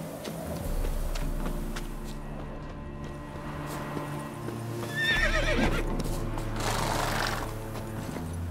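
A horse in The Witcher 3 gives a loud whinny over steady clip-clop hoofbeats, with game ambience underneath.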